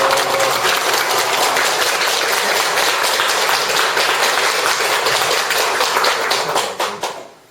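An audience breaks into applause to welcome a speaker at a Won Buddhist temple ceremony, a dense, even clatter of many hands that carries on steadily and then fades out at the end.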